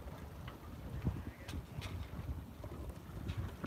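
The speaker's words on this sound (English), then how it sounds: "There's another boat coming by." Boat passing by on a bay full of sailboats, a low rumbling wash of engine and water mixed with gusty wind buffeting the microphone, steady and moderately close.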